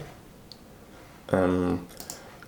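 A few light computer keyboard clicks while pressing Ctrl S to save a JavaScript file, soft and close, with a brief voiced sound in between.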